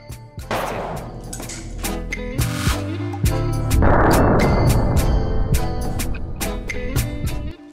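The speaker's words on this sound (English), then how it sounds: "After the explosion, the elements not only separate from each other, but also on their own." A series of sharp blasts tears metal pieces apart, with loud, booming cracks coming one after another and a dense rumble that swells and lingers between the bangs.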